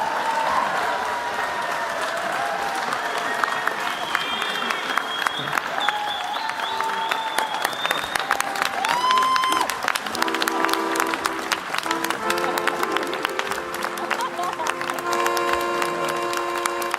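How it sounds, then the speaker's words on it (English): Audience applause at the Ig Nobel ceremony in a lecture hall, steady clapping that runs throughout, mixed with tonal sounds and clatter as the crowd claps on. "Feel free to applaud if you so choose."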